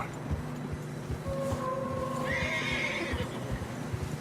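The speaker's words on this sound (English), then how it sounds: "Horses are struggling." Horses in the Red Dead Redemption 2 video game neighing and plodding through deep fresh snow, with a clear whinny rising mid-way over steady muffled hoof thuds and soft crunching footfalls.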